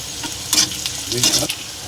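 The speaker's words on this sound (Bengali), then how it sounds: "পেঁয়াজটা ভাজা ভাজা আর একটু ভাজা হোক। কাঁচা লঙ্কা দিয়ে দিলাম" Chopped onions and green chillies fry in a pan for a fish curry, with close, loud stirring scrapes and bursts of crackle riding on a constant hot sizzle.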